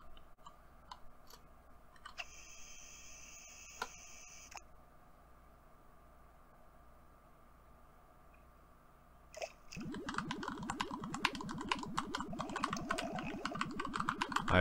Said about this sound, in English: I apologize again for the sound of the keyboard